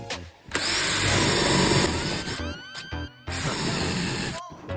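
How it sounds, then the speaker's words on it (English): Power drill bores into oak timber in close, loud bursts of high whine, stopping and restarting a few times, with spiralling pitch as the motor spins up and down. "So now let's drill the other side."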